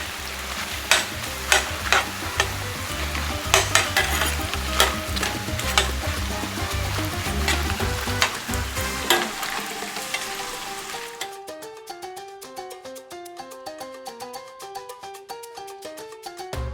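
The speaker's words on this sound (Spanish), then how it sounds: "aquí ya terminamos de dorar las tortillas" Tortillas fry in a pan for chilaquiles, crackling and sizzling loudly with rhythmic stirring clatter, then the frying cuts off and only a faint, sparse tapping remains.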